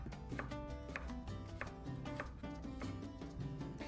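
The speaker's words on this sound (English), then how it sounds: "First up, we need to mince our onion." A knife mincing an onion on a cutting board, quick steady chops in an even rhythm, close and crisp, with no talk over it.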